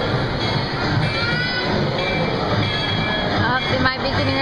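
Train car rolling along rails during a ride, a steady loud rumble and hiss with faint wheel clatter continuing throughout, close and constant.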